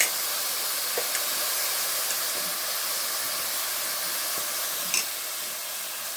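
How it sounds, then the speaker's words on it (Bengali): Steady broadband hiss of onion paste sizzling in a hot frying pan, continuous and fairly loud, with a few faint clicks and no voices. "এই ফ্রাই প্যানটা গরম হয়ে গেছে, এখন দিয়ে দিলাম পেঁয়াজ পেস্ট"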